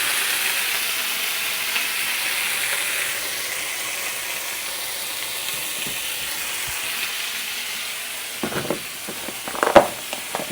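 Haggis frying in a pan of light oil, a steady broadband sizzle holding evenly throughout, with a few louder crackles and clatters of a utensil or pan near the end.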